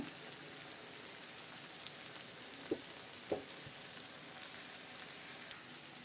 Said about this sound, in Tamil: பேபி பொட்டேட்டோ இருக்குல்ல, அதை போட்டு கொஞ்சம் நேரம் இப்படி வதக்கி விட்டுட்டு